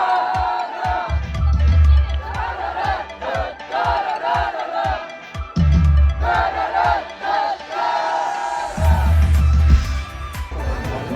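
A concert crowd at a Vilnius city festival sings together in unison to warm up their voices, a loud, sustained mass of voices with cheering swells, rhythmic percussive hits and music underneath.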